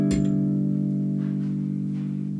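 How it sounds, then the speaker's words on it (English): A custom baritone ukulele chord rings out after a single strum, its mellow tone sustaining evenly and barely fading across the whole stretch, loud and close with no voices. "Now listen to the"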